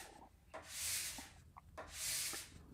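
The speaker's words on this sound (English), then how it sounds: "right here, I am scraping the tail of the board first" Wax is scraped off the tail of a snowboard in two slow, even strokes, each a soft, faint rasping swell with light knocks between them, heard up close with no talking.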